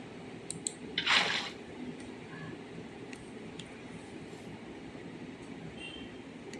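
Water being poured into a freshly dug block in the Minecraft video game, a single brief splash burst early on over a low, steady game background.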